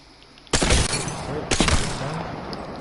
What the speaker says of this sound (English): Now I'm gonna start with longbow. Longbow just with this.